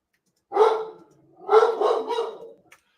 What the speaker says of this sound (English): now my dog's barking